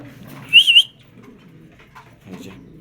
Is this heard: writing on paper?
no